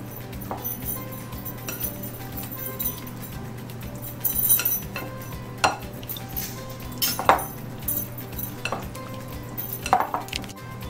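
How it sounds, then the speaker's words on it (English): Cutlery and dishes clink now and then as paneer cubes are mixed into a spiced yogurt marinade in a bowl, with several sharp taps and scrapes over a steady low kitchen hum. "All these cubes are marinated in this spice yogurt based marinade. So mix it well."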